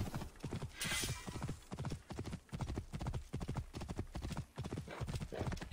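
Horse hooves gallop in Assassin's Creed Origins with a rapid, steady clip-clop rhythm that stays loud and close throughout.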